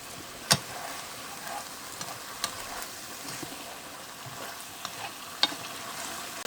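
Cauliflower and eggplant pakora frying in oil, a steady quiet sizzle with faint crackles and a few sharp pops or utensil taps scattered through.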